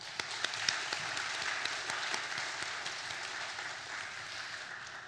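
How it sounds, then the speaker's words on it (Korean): A roomful of people clapping at a church worship service, steady applause with a few sharp individual claps at the start, gradually fading toward the end. "격려의 박수를 부탁드립니다"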